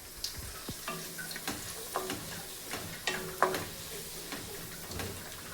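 Three tomatoes sauté in a pan for butter chicken, a steady soft sizzle with occasional stirring scrapes and light taps of a spoon, close and alone without talk.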